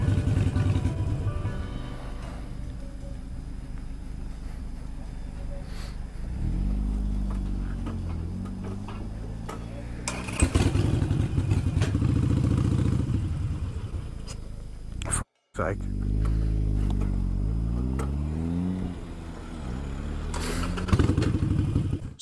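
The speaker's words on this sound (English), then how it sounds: "it's just when it drops to a like low revs that it cuts out" A Harley-Davidson Sportster Iron 883 engine idles unevenly at low revs with a rough, ticking rumble, dipping and faltering as if about to cut out, with a brief total dropout partway through.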